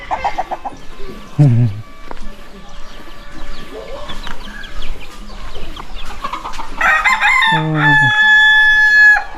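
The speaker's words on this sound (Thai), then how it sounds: "นี่เสียงไก่ขันคักเลย" A rooster crows loudly and close by near the end, after scattered clucks and bird calls, with a faint voice in the background, in a village in Sepon district, Savannakhet province, Laos.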